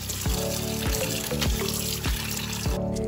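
Running water washes bamboo shoots in a kitchen sink, a steady rushing stream broken by repeated splashing thuds as the shoots are handled, close and fairly loud with no voices.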